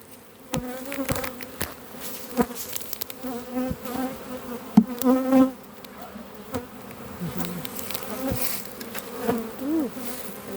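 Honey bees buzz close up inside an opened beehive during a hive split, a dense humming drone with individual bees whining past and frequent knocks and clatter of frames being handled.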